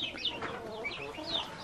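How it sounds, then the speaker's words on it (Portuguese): Chickens cluck and chatter in short, rapid calls close by, a busy flock sound without pause. "Tem um monte de galinha aqui"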